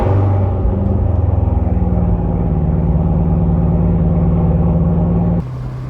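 A car engine cold-starts and settles into a loud, rumbling idle, steady and close, before dropping off abruptly near the end.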